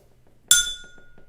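A full water glass, one of a set of musical glasses, is struck once, giving a bright ringing clink that decays slowly over a quiet background.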